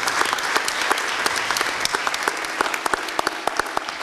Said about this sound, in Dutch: En ik vind eigenlijk een applaus waard voor Nicole.